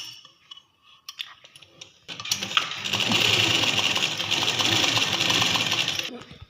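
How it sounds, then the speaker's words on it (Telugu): Sewing machine stitches thread piping onto cloth, running as a loud, steady rapid whir for about four seconds after some light handling clicks, with a voice talking faintly at the start. "ఇక్కడ నుంచి ఇక్కడికి మార్క్ చేసుకుంటూ స్టిచ్ చేసుకోవాలి"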